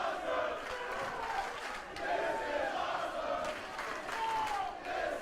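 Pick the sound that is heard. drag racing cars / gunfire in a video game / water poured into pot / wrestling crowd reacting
wrestling crowd reacting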